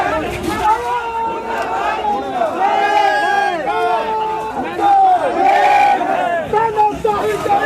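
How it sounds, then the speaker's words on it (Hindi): A large crowd gathered at a protest rally roars with overlapping chants and shouting voices, loud and sustained, rising in waves across the whole stretch. "बहुत भारी भीड़ यहाँ पर इकट्ठा हो चुकी है"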